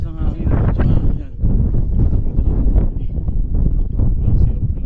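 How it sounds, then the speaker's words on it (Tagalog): Strong gusts roar across the microphone in heavy bursts on Mt. Pulag while a person talks loudly over the blustery noise. "Sobrang lakas ng hangin."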